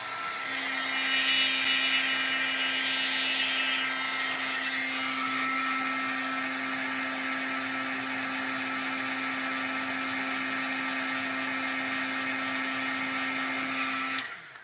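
Heat tool blowing hot air to set embossing powder on a stamped card: a steady loud whirring hiss with a constant hum, running alone for about fourteen seconds before cutting off.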